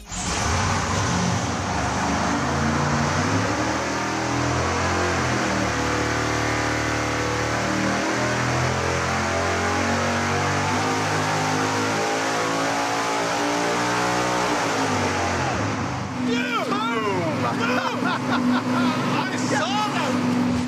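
Racing engine on double nitrous roaring at full load on a dyno, a loud sustained rising howl that drops off near the end, with voices talking over the tail.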